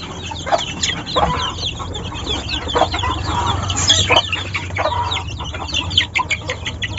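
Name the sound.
roosters clucking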